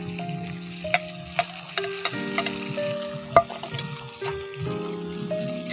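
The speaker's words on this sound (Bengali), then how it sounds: "দেখো মা পেঁয়াজটা হালকা করে ভেজে নিয়েছে, মা এবার মাংসটা ওর মধ্যে দিয়ে দিচ্ছে।" Meat tossed into lightly fried onions for Indian-style chow mein sizzles steadily, with sharp spatula clicks against the pan now and then and music playing underneath.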